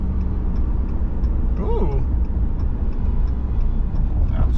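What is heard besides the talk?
road traffic heard from a truck cab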